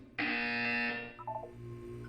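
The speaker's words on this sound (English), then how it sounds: "You will hear a buzzer. When you hear the buzzer, look up at the ceiling." A single loud, harsh buzzer sounds in the Portal 2 video game during a wellness exercise. It holds for about a second, then fades into a few softer electronic tones.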